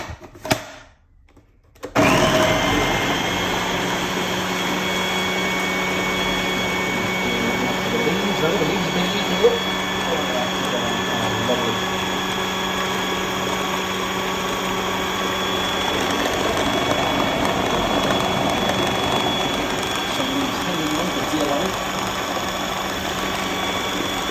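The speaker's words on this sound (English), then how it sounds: "And now it needs to be pureed." A blender whirs steadily, pureeing spinach, for a long stretch after a brief pause, its motor hum constant and loud with slight shifts in pitch as contents churn.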